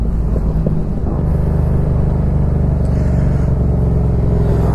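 A 125cc motorcycle accelerating, a loud continuous engine drone with low rumbling that holds steady and close for several seconds, with no talk over it.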